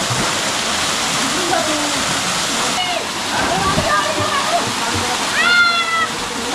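Dhodhavane perennial waterfall, a constant rush of flowing water close by, with people talking and calling out over it.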